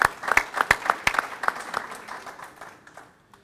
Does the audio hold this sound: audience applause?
yes